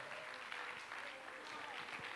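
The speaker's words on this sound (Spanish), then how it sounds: "Fuertes aplausos nuevamente para despedir a nuestros queridos amigos" A crowd at an intercultural music festival applauds in a faint, continuous roar of clapping, with a voice talking faintly over it.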